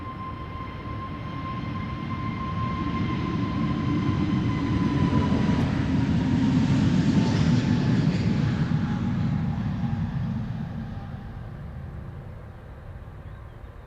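An EasyJet Airbus A320neo departing Amsterdam Schiphol for Edinburgh makes a broad jet roar that swells to a peak mid-way and then fades, with a steady whine riding on top and no voices.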